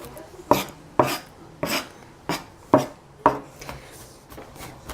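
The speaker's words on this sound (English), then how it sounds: "as you go along with this chopping, eventually, in the end, you're gonna have a minced garlic" A knife chops garlic on a cutting board in six sharp, evenly spaced strikes, close up and crisp, each one ending with a short scrape.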